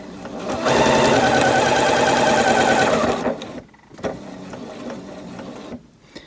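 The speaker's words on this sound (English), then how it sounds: "I'm sewing one-handed" A sewing machine stitches straps in one loud, steady whirring run of about two and a half seconds, followed by a couple of brief, quieter bursts of stitching.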